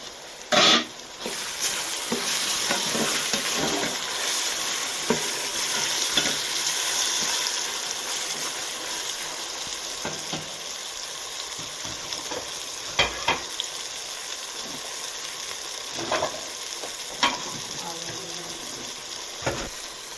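Green chillies and tomatoes frying with mixed vegetables for aloo matar gajar, stirred in a pan: a loud, steady sizzle near the start that eases off, with intermittent scraping and clinks of the spoon against the pan, no voices.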